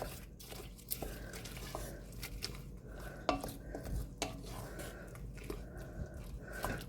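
Leftover vegetables being stirred in a pot, giving soft, steady scraping and clinking of a utensil against the pot with a few sharper knocks, close and fairly quiet, with no talk.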